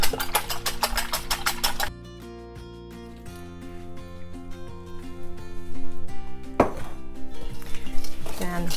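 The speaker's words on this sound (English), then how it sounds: "And whisk that together." Beaten eggs being whisked into apple bread batter make a quick run of rhythmic clinks against the bowl at first, followed by scattered taps and strokes, all over tuneful background music.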